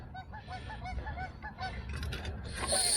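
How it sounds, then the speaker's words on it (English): Several geese honk in quick repeated bursts, loud and close, with rustling and rumbling noise underneath. "Geese do not like me being here, apparently."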